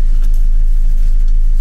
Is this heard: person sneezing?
no